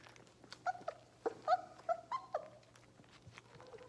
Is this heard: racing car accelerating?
no